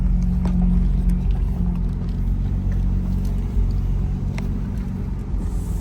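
A 2023 BMW M4 Competition, repaired after being wrecked and still without an alignment, drives along with a loud, deep cabin rumble and steady engine drone, road noise and a few light knocks over it.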